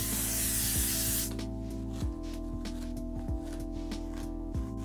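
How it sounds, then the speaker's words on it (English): Hairspray blasting onto teased hair in a burlesque-style updo, a loud, steady close hiss lasting just over a second before cutting off into quiet room tone with a faint hum. "Hairspray after teasing."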